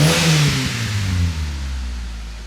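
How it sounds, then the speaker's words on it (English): A Mitsubishi Lancer with a rough idle revs loudly right after starting, its engine pitch sweeping down as the revs fall and settle into a low, steady idle, close by with no talking. "So now we should probably try and start the car"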